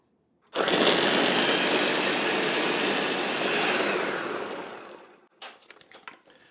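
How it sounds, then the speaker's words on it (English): Blender whirring loudly and steadily for about four seconds as it purées al pastor marinade with cloves and salt, then winding down, followed by a few light clicks and knocks. "We'll get this blended up."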